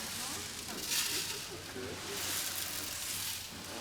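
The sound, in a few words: voice imitating the sound of water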